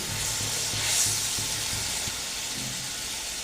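Two spoons of poppy seeds fry in white oil in a pan with a dense, steady sizzle and hiss, punctuated by soft, regular stirring scrapes near the start and again toward the end, heard up close without talk.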